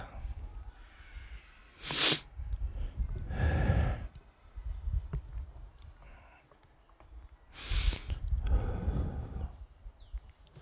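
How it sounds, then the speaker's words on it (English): Two sharp sneezes about six seconds apart, each followed by breathy sniffling and exhaling, close to the microphone in a quiet setting. "and sneeze and sneeze."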